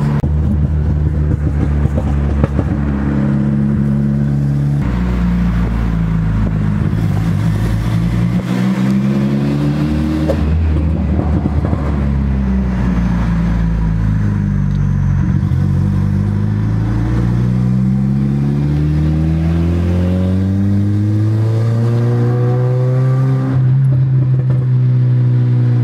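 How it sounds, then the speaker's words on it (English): A turbocharged car with an M32 gearbox and limited-slip differential accelerates hard on a freeway, engine pitch climbing through repeated gear shifts, loud and close from inside the car, with no voices. "We'll give you some turbo sounds."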